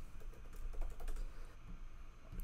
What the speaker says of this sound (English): And I'm going to type in summer.